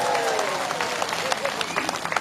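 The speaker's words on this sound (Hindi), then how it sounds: "आप लोग के लिए और एक बार ताली" A crowd claps loudly at a public address during a hunger strike, dense, continuous applause with a voice speaking over it at the start.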